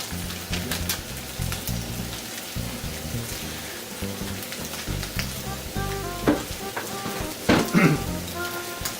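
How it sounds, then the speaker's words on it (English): Goya champuru, a bitter melon stir-fry with katsuobushi flakes, is stirred in a hot pan. A continuous close sizzle is broken by utensil scrapes and clinks against the pan. "Now I give this a good stir."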